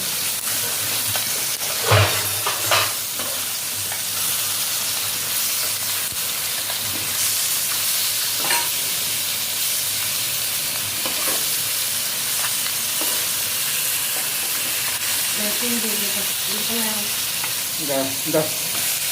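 Banana stem curry with shrimp fries in a pan with a steady, loud sizzle throughout, broken by a few sharp stirring knocks and scrapes near the start and end.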